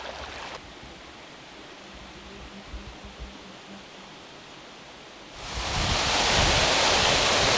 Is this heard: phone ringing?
no